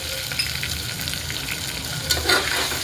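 Potatoes with black tomatoes and garam masala being stirred while frying in a pan for masala rice, a loud continuous sizzle with scraping stirring strokes close by.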